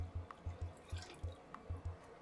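Urine from a measuring graduate is poured into a toilet during a nursing skills demonstration, making a quiet run of small, rhythmic splashes and drips into the bowl's water, with no talking.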